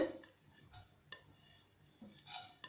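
Coriander, cumin and fennel seeds with other whole spices dry-roasting in a heated pan for a cauliflower pepper fry, giving faint scattered clinks and light scraping of a utensil against the metal pan, with short sharper taps in between.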